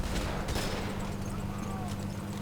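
Gunfire and explosive bursts in a World War II battle in Men of War Assault Squad 2, a few sharp shots early over a steady rumbling battlefield din.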